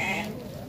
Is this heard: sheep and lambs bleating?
yes